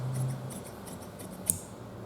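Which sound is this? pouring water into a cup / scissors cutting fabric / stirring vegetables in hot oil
scissors cutting fabric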